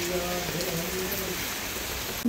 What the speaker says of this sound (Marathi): दुपारपासून पाऊस चालू आहे. मध्ये थोडासा थांबला होता पण आता परत चालू झाला.